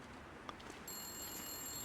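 A telephone rings in the video game The Long Dark inside a power plant, a faint electronic trill that begins partway through and holds steady over quiet background ambience.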